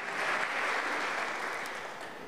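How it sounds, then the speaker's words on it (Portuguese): Church congregation applauding during a sermon, a steady wash of many hands clapping that holds loud and even, then tapers slightly toward the end. "Então aplauda o Senhor"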